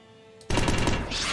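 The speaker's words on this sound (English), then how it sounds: "It's got the missiles firing." Rapid rattling bursts of missile fire erupt abruptly and loudly during a space fleet battle in the strategy game ISG Evolving Empires, a dense continuous barrage after a brief quiet lead-in.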